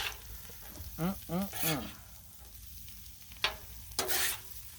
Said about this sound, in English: onion and peppers on the griddle, and bacon and sausage